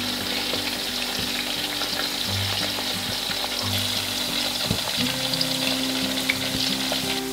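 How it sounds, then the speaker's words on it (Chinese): Chicken meatballs deep-frying in hot oil, a dense, loud, continuous bubbling sizzle with a few knocks and stirring clatters, close by and without speech. "第一遍炸熟，第二遍炸脆。"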